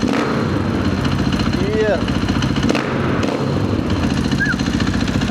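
A Husqvarna FC450 enduro dirt bike's single-cylinder engine runs close and loud, its steady rapid thumping rising and falling with throttle, while a person briefly speaks over it.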